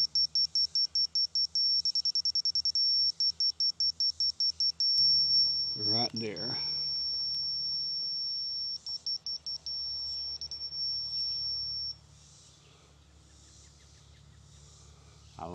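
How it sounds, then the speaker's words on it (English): Electronic receiver switched on in a workshop, giving a rapid series of high-pitched beeps, then a sustained tone and more beep bursts, with someone speaking briefly in the middle. "I hope you can hear that beeping."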